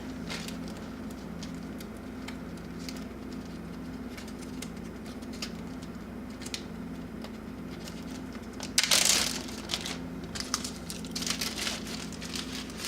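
A plastic zip bag is handled while making DIY fire starters, giving soft crinkling and rustling over a steady low hum. Near the end there is a louder crumpling burst followed by scattered crackles, with no speech.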